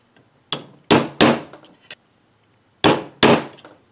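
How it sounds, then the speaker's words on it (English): Sharp metallic taps from a screw being hammered to mark holes in a metal lid, struck in small clusters of two and three with a pause in between, close and crisp like a hammer hitting a tin lid. "pop four holes in the lid. I'm just marking them with a screw here"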